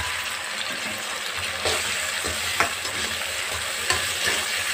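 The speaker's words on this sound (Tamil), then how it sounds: "தக்காளி கொஞ்சம் ஃப்ரை ஆகட்டும்" Chopped tomatoes frying in a pan with onions for a goat intestine curry give a steady close sizzle throughout, broken by a few sharp scraping stirs.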